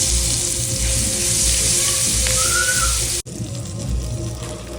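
Spice paste with asafoetida, turmeric and red chilli hits a spoonful of hot oil in a kadai and sizzles loudly and steadily for about three seconds before a sudden cut to quieter kitchen sound.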